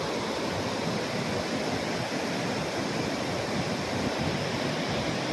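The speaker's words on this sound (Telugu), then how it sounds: "ఈ విధంగా మరి వర్షం రావడం వల్ల వాగు పొంగి పొలాలను కూడా ముంచివేయడం జరిగింది" A rain-swollen stream overflowing into fields near a village bridge, its rushing water a continuous, even roar at moderate level with no voices over it.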